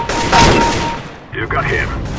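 Gunfire in the CS:GO video game, a burst of shots up close followed by a second flurry, heard under a voice talking.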